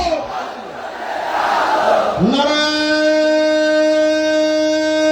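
A large crowd at a Bangladeshi religious gathering roars the takbir response 'Allahu Akbar' in unison: a loud, rough surge of many voices that settles into a sustained, held chant.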